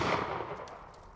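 A single gunshot firing factory-load ammunition, a sharp loud report with a decaying echo tail that fades over about a second.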